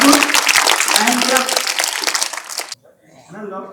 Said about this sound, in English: We can clap for each one of them